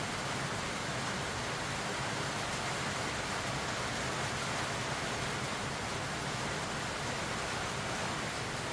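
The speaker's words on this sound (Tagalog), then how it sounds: "At ang lakas pa rin ng ulan." Dense, steady rain roars without a break, a constant loud hiss filling the whole stretch.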